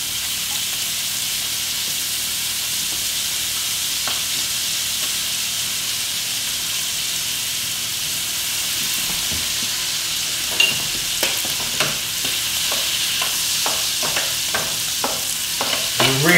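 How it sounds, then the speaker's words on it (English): Spring onions fry in hot butter in a pan with a loud, steady sizzle and hiss. Rapid stirring and scraping clicks join in during the second half, and no one speaks. "And you add those spring onions into that butter."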